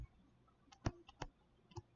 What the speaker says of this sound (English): Okay, I'm gonna type it in.